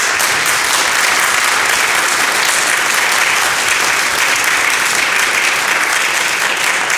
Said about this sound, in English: I would love to offer another round of applause for our directors and performers.